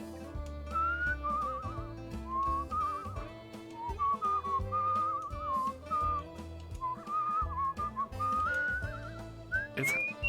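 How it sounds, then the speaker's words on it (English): Melodic whistling in the video game Where the Water Tastes Like Wine, a wavering tune over background music with low bass notes, steady and prominent for the whole stretch. "It's hard when there's the whistling and the music."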